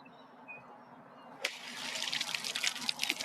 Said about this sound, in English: Listener, obviously you heard the splash.